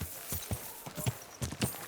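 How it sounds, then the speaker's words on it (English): Horse hooves clip-clop in a steady trotting rhythm in the video game Kingdom Come: Deliverance II, close and fairly crisp, with no talk over them. "Your horse nearly tramples me!"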